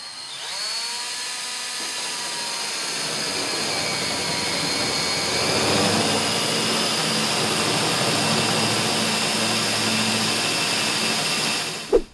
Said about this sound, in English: As you're drilling out the spot welds